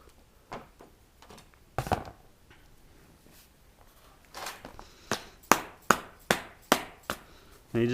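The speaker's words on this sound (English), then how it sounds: "And you just take the hammer, go very slow, well, not too slow, but slow enough." A hammer taps a metal car body panel in a slow series of sharp, ringing knocks, sparse at first and then more regular and louder toward the end.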